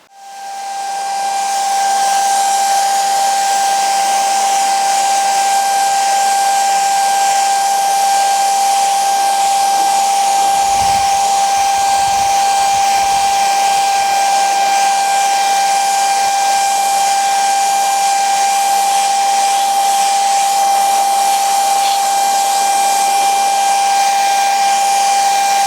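A Tilswall Shark 800 paint sprayer sprays paint onto boxes with a loud, steady hiss and a high whine holding constant for the whole stretch, with no talking.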